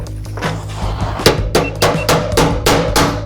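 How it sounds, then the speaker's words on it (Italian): A front wheel bearing being driven in with a 27 mm socket, a run of sharp metallic hammer blows, about eight strikes at a steady, quickening rhythm, close and loud with no talking. "O ci muniamo di una bella bussola da 27 e cominciamo a picchiare"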